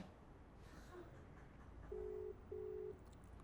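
A telephone call's ringback tone plays quietly over faint room noise: two evenly spaced, steady beeps of equal length, with no talk.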